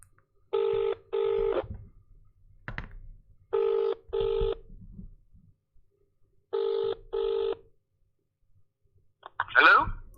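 A phone dials out with three pairs of short keypad tones, each pair separated by pauses filled with quiet room noise and clicks. A brief ringing or connection burst follows at the end.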